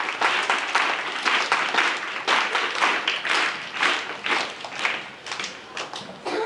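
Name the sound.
audience applause thanking the Republic Day announcement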